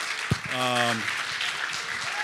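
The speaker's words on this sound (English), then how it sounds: "Let's give another round of applause to Mike, Harry, Aquilino, and Daniel." A crowd claps in continuous applause, with a brief shout or cheer rising over the clapping early on.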